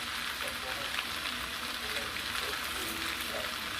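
Soy sauce goes into a hot pan of chicken and shrimp, setting off a continuous, fairly quiet hiss of sizzling that runs evenly to the end.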